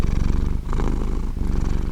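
A cat purring steadily up close, a continuous rhythmic rumble with no voices over it.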